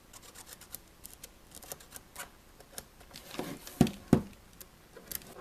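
Scissors cutting carbon fiber vinyl wrap on a ThinkPad laptop lid near the hinges, a few quiet snips with two sharper, louder cuts close together near the end, close up and with no talking.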